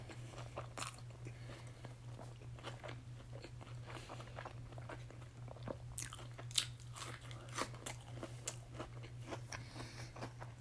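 Biting and chewing a Burger King Whopper Jr., close and quiet, with soft crunchy bites and moist chewing repeating irregularly over a low steady hum, no speech.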